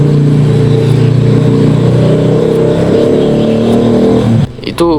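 A motorcycle engine revs past close by, a loud, steady droning growl that holds for several seconds before cutting away abruptly near the end amid other brief noises.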